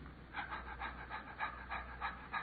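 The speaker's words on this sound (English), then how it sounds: "most people's normal breathing" A man demonstrates ordinary human breathing, a close series of soft, rhythmic breaths, about eight quick inhale and exhale pulses in steady succession with nothing else heard.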